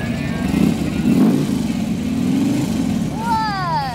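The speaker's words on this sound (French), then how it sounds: "ça, c'est le fameux son Harley-Davidson qui a mauvaise réputation" A big Harley-Davidson motorcycle engine rumbles loudly close by, revving in low throaty surges, with another sound briefly rising near the end.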